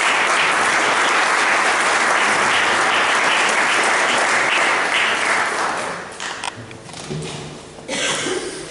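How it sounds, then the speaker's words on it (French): Sustained audience applause at a business conference for a guest speaker, dense and loud from many hands, tapering off near the end as a few claps and murmurs remain. "je vous prie de l'applaudir"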